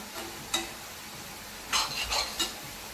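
Spring onion greens cooking on low heat with turmeric and chilli powder: a few scattered spoon scrapes and stirs against the pan over a faint sizzle, sparse and close.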